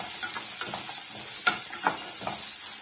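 Grated coconut sautéed in a pan for a curry leaf chutney gives a soft, low sizzle broken by several brief scrapes and taps of a spoon against the pan, fairly close, with no talking.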